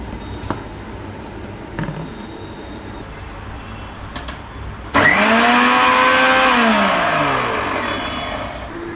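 A kitchen mixer grinder starts up abruptly and whirs loudly, grinding cooked drumsticks for soup, its motor pitch sliding down as the load settles, following a few quiet clicks and handling sounds.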